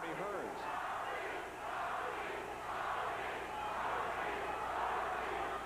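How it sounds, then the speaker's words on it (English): Boxing crowd at a WBA light heavyweight title fight chanting for Thomas Hearns in the ninth round, a dense, steady roar of many voices swelling in waves throughout. "The crowd chanting for Tommy Hearns."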